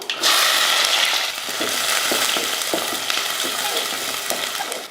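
Chopped shallots, garlic and curry leaves hit hot oil with a loud, dense frying crackle that holds steady throughout, with small stirring knocks underneath.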